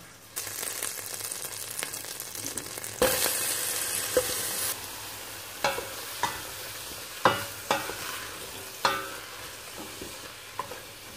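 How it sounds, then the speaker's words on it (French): Leeks and onions sauté in melted butter in a soup pot over medium-low heat, with a continuous gentle sizzle broken by sharp, periodic knocks and scrapes of stirring. "je vais mettre mon beurre à fondre dans ma marmite et je vais ajouter mes poireaux et mes oignons"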